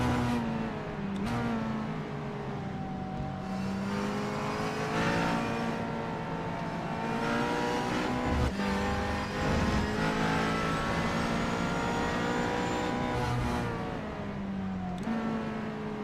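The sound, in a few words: McLaren race car engine revving, onboard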